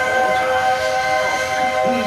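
A Walt Disney World Railroad train rolls along with a continuous, even rumble and a steady tonal whine over it for the whole moment.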